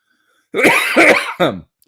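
A single person coughs and clears their throat close to the microphone, a rough burst followed by a shorter second hack, then silence.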